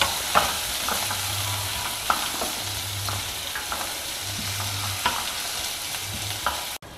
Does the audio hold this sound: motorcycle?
no